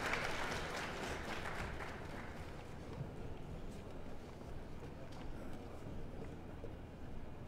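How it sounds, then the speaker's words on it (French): Audience applause at an official opening ceremony in Kankan, Guinea, welcoming the Guinean Prime Minister; a steady wash of clapping under a loud, echoing hall sound, with a voice over the top. "Sous vos applaudissements, s'il vous plaît"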